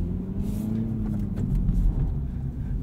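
A 2022 Mini Cooper S two-door hatchback with a six-speed manual gearbox drives along a road, its engine giving a low, steady rumble heard from inside the cabin.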